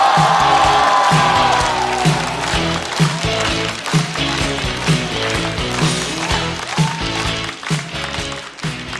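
A live studio audience at a Chinese stand-up comedy show applauds and cheers for a comedian taking the stage, with dense clapping, whoops and some rhythmic clapping filling the room at full volume.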